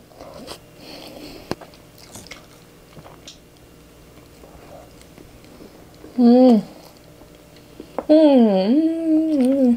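Crunchy bites into pistachio cream salt bread with soft chewing between, close to the microphone, with a person speaking briefly in two loud bursts over the eating sounds.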